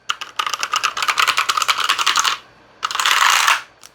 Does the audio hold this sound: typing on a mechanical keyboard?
yes